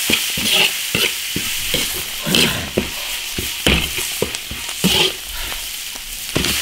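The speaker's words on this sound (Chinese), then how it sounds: "把它再爆炒一下" Donkey intestine is stir-fried with ginger, scallion and chilli paste in an iron wok, with a steady sizzle and repeated sharp scrapes and clanks of a spatula at a brisk rhythm.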